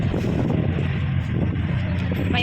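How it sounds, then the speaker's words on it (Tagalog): Steady wind buffeting the open rooftop deck of a ferry bound for Dumaguete, a constant loud rush with low rumble, alone without talk. "Mahangin dito."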